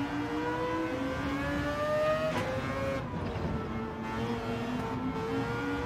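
Steady race car engine drone in Gran Turismo 7, holding a high whine with shifting pitch as the car chases an Audi on hard tyres, continuous and fairly loud with no talk.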